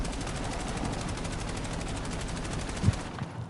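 Rapid automatic gunfire in Call of Duty Black Ops 7, a continuous stream of close, even-paced shots that runs for about three seconds, ends with a heavier thump, then cuts off.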